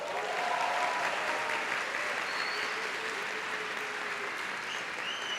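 A church congregation at an evening worship service claps warmly and continuously to welcome a guest pastor, a dense even wash of applause filling the room, with a few faint voices and whistles underneath.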